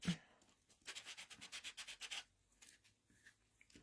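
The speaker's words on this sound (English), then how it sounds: "So keep sanding that off until it gets the way you like it." Hand sanding of a rustic stamped paper craft piece, a quick run of rhythmic scratchy rubbing strokes, faint and close, with no talking.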